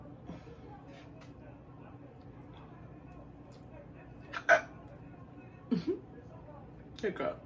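Three short hiccups from a person eating a porterhouse steak with loaded potatoes and shrimp, spaced a second or so apart near the end, close and fairly quiet over a low room background.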